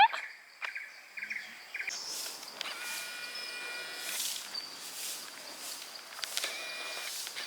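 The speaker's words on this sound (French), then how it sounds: "Il y a des poulets." Chickens cluck and call at Urban Forest in Thailand, with several clear bird calls close by against quiet surroundings and scattered rustles.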